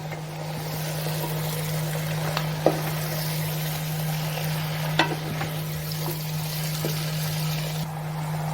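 Onions sizzle steadily in a pan while a utensil stirs, scraping and knocking against it a few times, with a constant low hum underneath.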